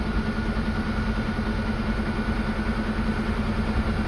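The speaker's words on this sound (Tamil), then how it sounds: "இப்போ வண்டியை ஸ்டார்ட் பண்ணி கொஞ்சம் மூவ் பண்ணி பார்க்கலாம். ஸ்டார்ட் ஆயிடுச்சு." Ashok Leyland truck engine idling in neutral, a steady loud droning rumble heard close up with no talk.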